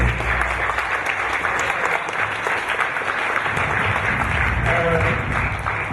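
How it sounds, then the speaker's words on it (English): An audience at a Manchester writers' conference in 2012 gives loud, continuous applause, a thick wash of clapping from many hands that stays steady throughout, with some voices mixed in beneath it. "can you give a big round of applause?"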